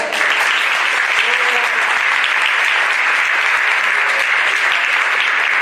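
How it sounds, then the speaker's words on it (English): Loud, sustained applause from a large audience at a high school signing day ceremony fills the whole stretch, a thick continuous wash of clapping. "So let's give them one last round of applause."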